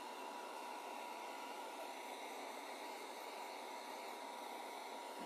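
A hair dryer blows a steady, loud, even whoosh on a tobacco-basket fabric pumpkin, unbroken for the whole five seconds with no voices.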